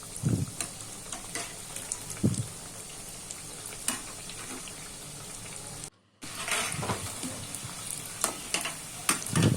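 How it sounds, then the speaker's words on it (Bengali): Banana flower chops fry in hot oil with a continuous crackling sizzle and occasional soft bumps as they are turned, broken by one brief moment of silence. "গরম তেলের মধ্যে একে একে ছেড়ে দিয়েছি। উল্টে পাল্টে লাল লাল করে ভেজে নেব।"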